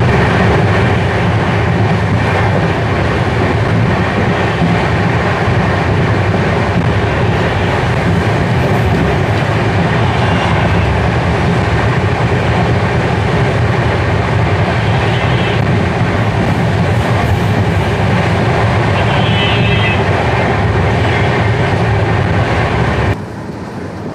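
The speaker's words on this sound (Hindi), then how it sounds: "हमारी ट्रेन एंटर कर चुकी है रतनगढ़ जंक्शन पे" The Lalgarh-Prayagraj SF Express rolls on rails near Ratangarh Junction in India, heard from aboard as a loud, continuous rumble with rhythmic clickety-clack and faint squeals.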